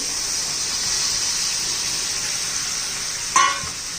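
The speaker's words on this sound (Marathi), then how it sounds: "आता आपली ही चवळी पण घालून घ्यायची." Black-eyed peas (chavli) tossed into spiced masala in a pan over low flame sizzle steadily, a constant bright frying hiss with one brief louder clatter near the end.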